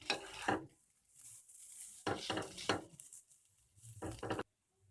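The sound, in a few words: mixing chowmein noodles with tomato ketchup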